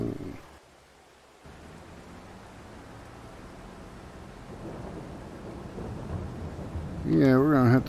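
Thunderstorm rain in Farming Simulator 22, a steady broadband hiss of rainfall that builds in loudness, with a low rumble of thunder swelling near the end.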